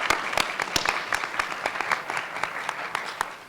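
Audience applause at a closing ceremony, the sound of a crowd clapping together with sharp individual claps standing out, holding steady throughout without a break.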